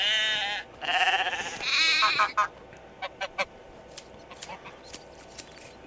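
Sheep in the medieval farming game Medieval Dynasty bleating, several loud wavering bleats in quick succession at the start, followed by a scatter of short clicks and taps at lower volume.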